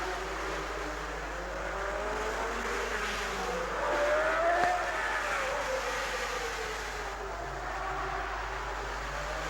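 Grand Prix racing cars at Monaco, engines rising and falling as they pass at a distance, a sustained whining drone with a louder swell midway.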